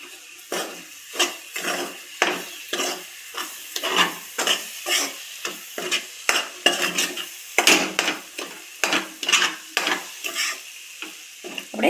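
Mango ladoo mixture is stirred in a pan over low gas, a steady run of rhythmic scraping strokes of a spoon against the pan with a light sizzle, close and clear with no talking.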